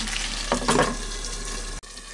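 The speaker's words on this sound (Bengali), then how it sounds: "এখন এর মধ্যে আমি ভেজে রাখা আলুগুলোকে দিয়ে দিচ্ছি আলুগুলোকে মশলার সাথে কষিয়ে নেব" Pre-fried potatoes being sautéed with spices in a pan for a vegetarian aloo dum, a loud close sizzle with a brief burst of stirring, then steady frying that cuts off abruptly near the end.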